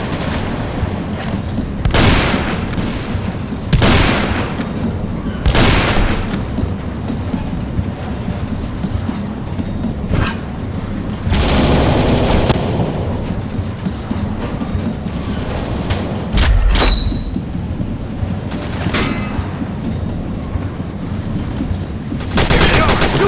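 A multiplayer train video game fills with loud gunfire, with repeated sharp shots and bursts near the listener over a continuous rumbling train and action backdrop.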